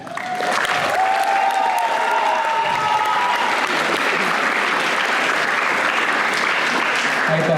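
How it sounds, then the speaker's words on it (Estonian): Warm applause from a school audience at a Tartu Tamme Gymnasium camp event swells in after a brief moment and holds steady and full, many hands clapping together, with a faint voice near the start. "Kas me võime palun anda suure sooja aplausi Rauno Kasele?"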